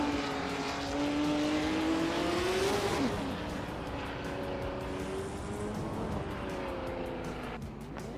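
Race cars launching at the start of a rallycross race at Mugello, a 1973 Porsche Spider on pole: a loud, continuous engine roar with rising and falling revs, sustained throughout with no talk.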